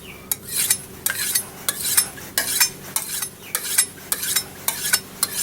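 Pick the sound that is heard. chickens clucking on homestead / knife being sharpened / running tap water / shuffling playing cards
knife being sharpened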